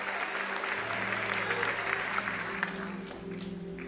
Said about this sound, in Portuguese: Você consegue aplaudir ao Senhor pela Sua palavra agora?